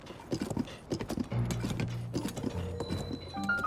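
Horse hooves clip-clop in a steady trotting rhythm while riding into Goron City in Zelda: Tears of the Kingdom, close and clear, with game music tones rising toward the end.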